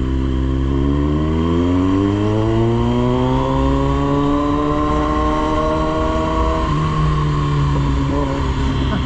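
Kawasaki Z900 motorcycle engine running steadily during a local ride in Dehradun, a loud, close, continuous drone with rising and falling pitch as the revs change, alone without talk.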